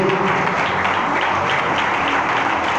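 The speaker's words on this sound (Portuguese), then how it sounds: "dê aquela salva de palmas e glória para Jesus" A church congregation claps in praise of Jesus, a dense, steady applause filling the whole stretch at close range with no break or fade.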